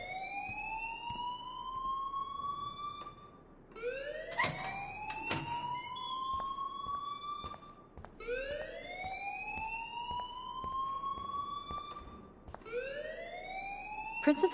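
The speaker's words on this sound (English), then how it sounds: "please turn off that alarm since that's your job" A repeating electronic alarm from the video game Life is Strange wails in rising sweeps about every four seconds, loud and continuous, with brief sharp clicks partway through.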